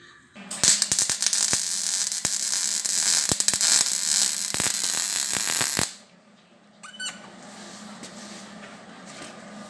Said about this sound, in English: take the paint off, weld that, and grind it